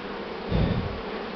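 A swarm of Buckfast honey bees buzzing beside the hive, a steady, close drone that swells briefly midway, with no voice.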